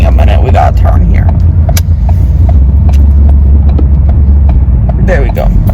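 A car drives along with a constant loud engine and road rumble throughout, while people talk inside the cabin over the steady noise.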